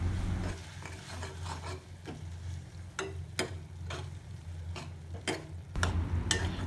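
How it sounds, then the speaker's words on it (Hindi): Spices for a tomato and onion chutney cook in a pan with a constant low sizzle. Sharp scraping strokes of stirring come at irregular intervals throughout. "मसाले डालने के बाद उन्हें भी अच्छे से पकाएं।"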